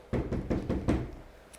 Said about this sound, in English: Then you hear the knock at the door.